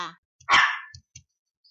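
A single short, sharp dog bark stands alone amid silence, followed by a few faint soft taps.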